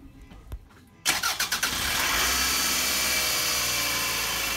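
A 2005 Toyota RAV4 on jack stands with a power steering leak cranks with a few quick pulses, then catches and settles into a loud, steady idle up close.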